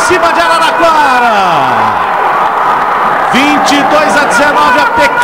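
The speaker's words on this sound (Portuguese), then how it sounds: "a pequena torcida de Valinhos ali à direita na arquibancada já começa a festejar" A small group of Valinhos supporters cheers from the stands of a volleyball arena during a Superliga qualifier match, whoops and crowd noise rising steadily, with faint babble mixed in.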